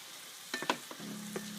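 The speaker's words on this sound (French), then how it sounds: "Et les oignons, ça fait à peu près 5 minutes qu'ils cuisent." Onions cooking in a little broth in a pan for empanada filling give a soft, low sizzle with a few light stirring clicks and scrapes, faint and without talk.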